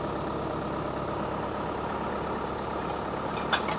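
A tractor engine idles steadily at close range, a continuous low rumble with no speech, and one brief sharp click or knock near the end.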